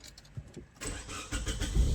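A car engine cranks and catches during a driving lesson on narrow lanes, the starter whir giving way to a rising idle that swells toward the end, heard close from inside the vehicle.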